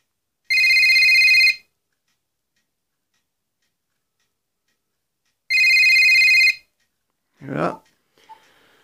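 A Motorola micro tac mobile phone, a D.club model, rings twice in electronic bursts of about a second each, several seconds apart, loud and close. A short voice follows, along with a small click.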